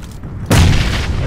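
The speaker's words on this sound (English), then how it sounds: "I'm gonna throw this, and this is gonna be the perfect grenade throw." A grenade goes off in the video game PUBG, a single sudden loud boom that cuts in after a brief quiet moment and rumbles on with a low tail.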